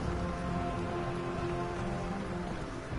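Rain falls steadily in the Elder Scrolls Online video game, a continuous even patter without breaks that fills the whole stretch.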